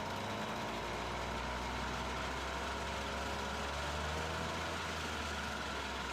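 An MBK 40V AV7 moped with an Airsal 70 kit and a SHA 15 carburettor runs continuously at close range. It gives a loud, dense engine drone with a steady buzzing roar and no pauses.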